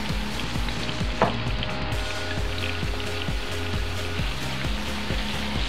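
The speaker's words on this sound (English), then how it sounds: "So I'm going to go ahead and add that shrimp now." Shrimp hits a hot pan for a shrimp and broccoli dish, setting off a steady, close sizzle broken by light utensil clicks, with no talking.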